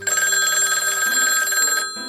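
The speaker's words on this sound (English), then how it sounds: "The phone rang." An old-style telephone bell rings loud and close, a rapid metallic trill running continuously before briefly stopping and starting again.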